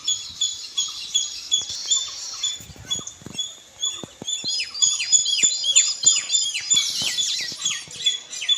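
Small birds chirp around a school set in natural greenery, with rapid high tweets and repeated short calls that grow denser toward the end. Faint ticks and rustles sit underneath.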